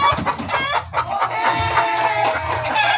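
Hens and pullets cluck busily and close by, overlapping calls in a continuous backyard chatter with a rooster-like cry in the mix.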